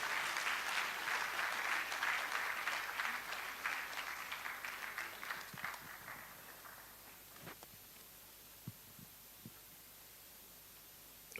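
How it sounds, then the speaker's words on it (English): Applause from an audience at a ceremony of the Ghana College of Physicians, steady for about five seconds and then tapering off into scattered claps and quiet room tone. "please clap for him"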